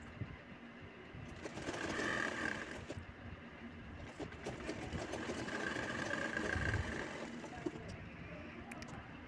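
A sewing machine stitches the edge of a pillow cover in two quiet bursts of steady whirring, with a short pause between them.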